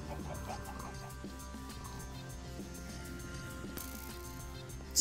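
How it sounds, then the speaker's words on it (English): Minecraft chickens cluck in short repeated bursts amid soft game sounds and a quiet music bed, faint and somewhat distant, with no talk. "Chickens!"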